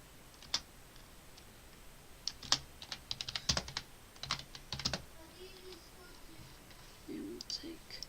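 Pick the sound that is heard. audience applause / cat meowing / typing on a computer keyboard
typing on a computer keyboard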